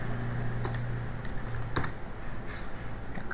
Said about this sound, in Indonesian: Saya pencet Ctrl N, dia hilang semua.